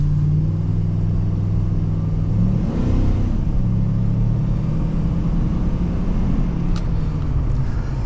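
A 2002 Chevrolet Silverado 2500 HD pickup with a 6-liter V8 drives along, its engine droning steadily at close range, swelling briefly as it revs up around the third second before settling back into a continuous cruising rumble.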